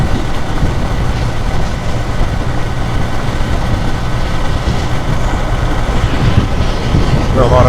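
A Kawasaki W800 motorcycle engine revs up with a gentle throttle twist, a steady, loud, close rumble that holds level throughout with faint voice-like sounds in the mix.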